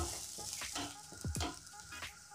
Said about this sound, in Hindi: अब इसको हम 1/2 मिनट के लिए सॉटे कर लेंगे।